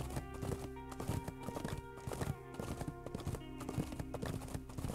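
Horse galloping in the Cowboy Life Simulator video game, with steady clip-clop hoofbeats in a fast, driving rhythm over a dense layer of game music and ambience, continuous throughout.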